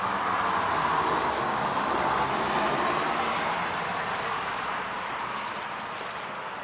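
A car passing on a nearby road, a steady broadband whoosh of tyres and engine that holds fairly loud throughout and eases slightly toward the end, with no talk.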